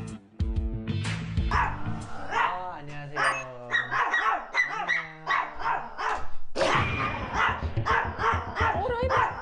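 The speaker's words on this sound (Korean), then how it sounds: "아, 심하게 짖는다." A dog barks loudly and repeatedly, with yips, growls and whimpers mixed in, during a dog-training session, close and insistent. People talk over and between the barks.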